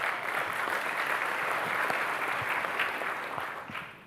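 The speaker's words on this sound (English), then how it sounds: "Give yourselves a round of applause for a great event." Sustained audience applause fills a room at a 2017 SAMCEDA annual business meeting, a dense, steady patter of many clapping hands that holds throughout and tapers slightly at the end.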